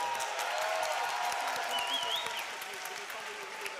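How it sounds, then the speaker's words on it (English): An esports audience at the Splatoon European Championships applauds in a steady, moderately loud wash of clapping, with faint voices and thin whistle-like tones mixed in. "applaudir la main innocente"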